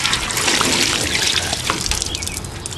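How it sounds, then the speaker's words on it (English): Liquid poured over a Webkinz gorilla plush toy, making a loud, steady splashing water rush that keeps going for a few seconds, up close, with no voices. "I'll just pour these lethal toxins all over me."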